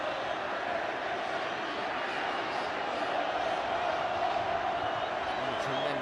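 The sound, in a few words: football stadium crowd cheering after a goal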